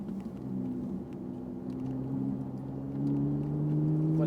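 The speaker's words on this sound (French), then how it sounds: "on peut commencer à accélérer" Ferrari 458 Italia V8 engine pulling on a race track, a steady low rumble with rising tonal whine building gradually and growing louder toward the end, heard from inside the car.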